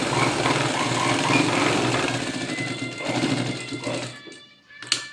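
A sewing machine stitches a blouse in a fast, continuous mechanical whir, loud and close, running steadily for several seconds before stopping with a final clack.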